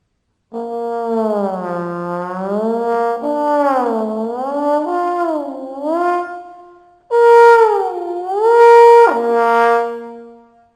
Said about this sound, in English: this is what the slide sounds like when you're not stopping on each individual position